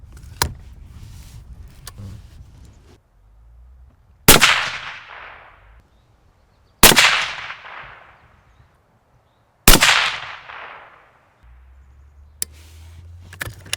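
Three loud 6.5 Creedmoor rifle shots at a shooting range, each a sharp crack with a decaying tail, spaced a few seconds apart, along with a few fainter clicks and low handling noise between them.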